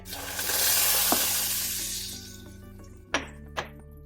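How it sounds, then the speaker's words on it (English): Mustard seeds crackle and pop in hot oil for tempering paneer, a dense loud sizzle that slowly fades, followed by two sharp close knocks near the end. "Here our mustard seeds are popping, and I'm going to add it to our paneer"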